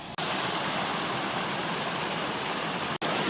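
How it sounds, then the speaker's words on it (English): Small waterfall just above Hemlock Falls on a hiking trail, a steady, loud broadband rush of falling water filling the whole stretch with no voices. "So this is like a little waterfall just right above Hemlock Falls."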